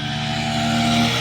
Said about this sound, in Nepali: उताबाट बाइक आउँदैछ रेसिङ बाइक रेस भइरह